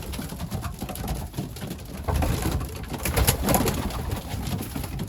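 Young racing pigeons cooing inside a loft aviary, soft repeated throaty coos overlapping throughout at a moderate, close distance with faint ambient rustle and no talking.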